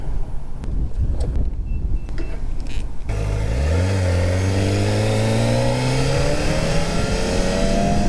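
A tuned Kawasaki Ninja ZX-4RR sport motorcycle revs hard as it accelerates. After a stretch of wind buffeting, the engine note climbs steeply and keeps rising, loud and close, with the wind roaring under it.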